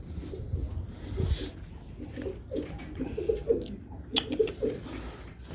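Several pigeons, Turkish flying pigeons, coo in soft, overlapping bursts nearby, with occasional rustling and light fluttering in an enclosed loft divided into separate sections.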